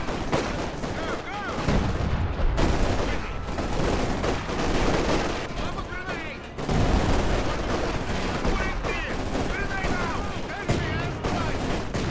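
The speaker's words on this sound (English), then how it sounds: "Deal with those machine guns" Machine gun fire in Company of Heroes 2, dense overlapping bursts and battle booms running almost throughout, loud and chaotic, with game voices shouting between the volleys.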